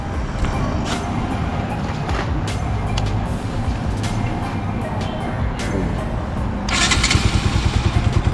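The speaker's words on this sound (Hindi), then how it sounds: "और बाइक अभी मैं स्टार्ट करके दिखाता हूँ।" A Bajaj Pulsar NS200 motorcycle engine with a faulty throttle position sensor and misfiring idles roughly nearby, then revs up into a louder, rapid pulsing burble near the end.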